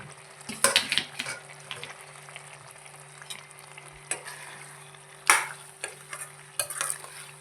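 Mushrooms being stirred into masala in a pan, with a low simmering sizzle broken by a few sharp, loud spoon scrapes and clanks at irregular intervals, nobody speaking.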